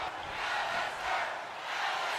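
Video game arena crowd in WWE 2K25 chanting a wrestler's name, a steady roaring mass of voices swelling in rhythmic waves, loud and continuous throughout.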